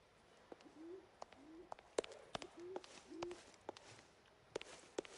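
Pigeons coo indoors in the game L.A. Noire, soft repeated low calls heard several times beneath sharp clicks and footsteps, all faint and sparse.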